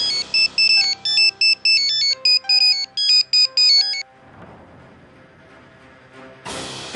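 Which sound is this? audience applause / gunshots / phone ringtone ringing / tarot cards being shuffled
phone ringtone ringing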